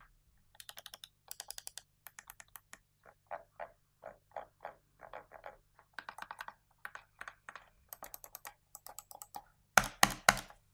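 Buttons on a Razer DeathAdder V2 gaming mouse are pressed in quick, crisp clicks close up, arriving in irregular clusters with short gaps and ending in a louder rapid flurry, no talking.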